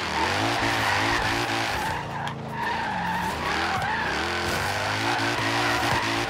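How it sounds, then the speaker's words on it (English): Car drifting around a corner in Forza Horizon 3, its engine revving in wavering tones over a loud, sustained tire squeal, close and continuous with no talking. "Just going to want to accelerate just a small bit, just so you get that perfect drift around the corner"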